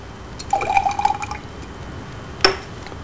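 Water trickling and dripping into a glass volumetric flask while solution is washed in to make an acetate buffer, a short run of light splashes followed by a single sharp clink of glass near the end.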